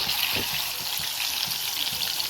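Chicken pieces fry in hot oil with a steady, close crackling sizzle that runs throughout, broken by a few soft low knocks as the pieces are moved about.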